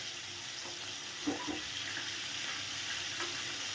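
Prawns fry in hot oil in a home kitchen, a faint steady sizzle with a couple of soft clinks and splashes as the browned prawns are lifted out.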